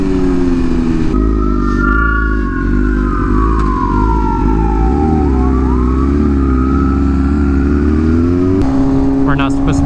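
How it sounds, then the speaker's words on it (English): An ambulance siren sweeps up and down over a loud, rumbling BMW M1000RR motorcycle engine nearby, with a voice speaking briefly. "We're not supposed to be passing that ambulance, so we're just gonna be going slow."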